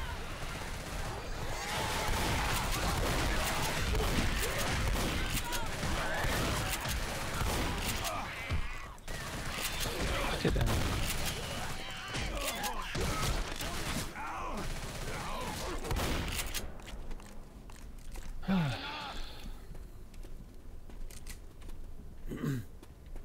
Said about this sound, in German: Ob man hier auf diese schönen, wunderschönen Gasflasche schießen kann.